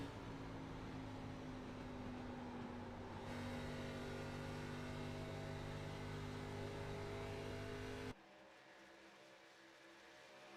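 Simulated ARCA stock car engine at Charlotte, a steady loud droning roar that shifts pitch partway through, then drops suddenly to a quieter, thinner tone as the throttle lifts.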